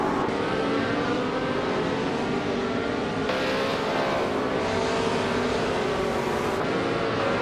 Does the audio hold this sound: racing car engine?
yes